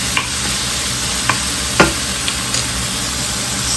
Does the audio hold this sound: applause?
no